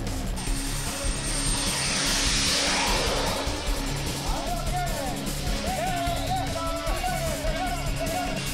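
A 300-pound monster-scale radio-controlled C-17 Globemaster model jet with a wingspan over 20 feet flies past, a rising and falling turbine whoosh heard under a narrator's voice.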